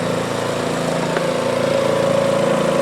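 A John Deere D105 lawn tractor engine runs at a steady, close drone with a constant mid-pitched hum and no pauses, heard alone without talk.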